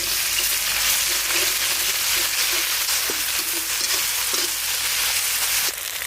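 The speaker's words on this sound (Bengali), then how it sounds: "ওই তেলেই ফোড়ন দিয়ে দেবো গোটা জিরে, দিয়ে দেবো কুচনো পেঁয়াজ আর কাঁচা লঙ্কা, দিয়ে দেবো আদা রসুন বাটা" Onion, green chilli, cumin and ginger-garlic paste sizzle steadily in hot oil, a dense continuous frying hiss with no voices, ending in a slight drop near the end.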